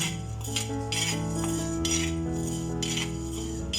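Continuous metallic scraping and clinking of a utensil stirring rice as it dry-roasts in a pan for rice balls, steady and close, with no talking.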